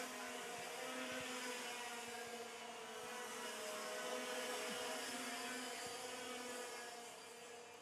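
KA2 and KZ racing karts going through a corner at a race meeting, a continuous buzzing engine drone that swells and fades slightly as they pass, moderately distant.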